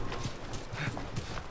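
Horse hooves clip-clop in the video game The Last of Us, a short run of close, evenly spaced hoof knocks.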